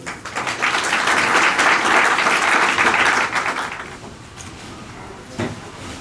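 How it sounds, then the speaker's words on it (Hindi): Wedding guests clap for a newly declared husband and wife at a Christian ceremony, a dense burst of applause lasting about three seconds before fading into room noise, with a lone knock near the end. "ताली बजाइए"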